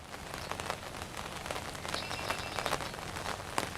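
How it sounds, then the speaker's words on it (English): Steady rain falls over the wreckage site of the collapsed Key Bridge, a dense, continuous hiss with scattered sharper drop hits, fairly close and even in loudness throughout, with no voices. "And Alexis, I can hear the rain in your shot there"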